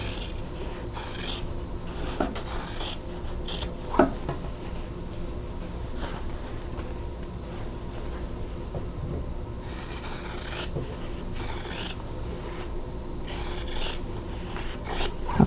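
Scissors cutting quilting fabric along a drawn line to make half-square triangle units, a run of close, scratchy cutting strokes in bursts with short pauses between them, with no talking.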